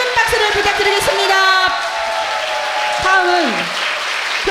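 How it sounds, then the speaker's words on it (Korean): Audience clapping at a Korean graduation ceremony, a steady loud wash of applause that holds throughout, with tonal music or feedback lines sliding underneath. "아주 귀한 말씀해 주신 양창식 회장님한테 다시 한번 큰 박수를 부탁드리겠습니다"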